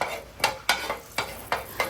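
Sharp crackling pops from mustard seeds spluttering in hot oil, arriving in quick irregular bursts, fairly close and clear.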